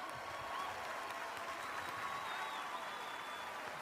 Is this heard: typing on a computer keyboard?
no